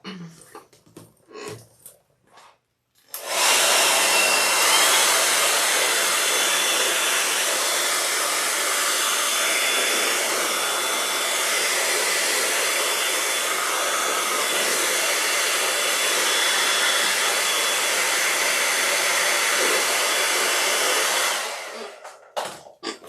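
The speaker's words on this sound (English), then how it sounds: "I am going to give this a shot. With the hairdryer" A hair dryer runs loud and steady for about twenty seconds, starting abruptly and then shutting off.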